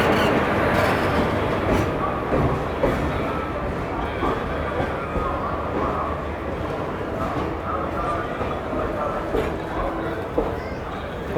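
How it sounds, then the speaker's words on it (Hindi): The Narsapur–Nagarsol SF Express, hauled by a WAP4 locomotive, pulls into Vijayawada station with a continuous heavy rumble and rolling clatter that eases slightly as it slows, while voices murmur on the platform. "तो अपने समय से 8 मिनट के डिले के साथ पहुँच चुकी है नरसापुर नागरसोल एक्सप्रेस विजयवाड़ा"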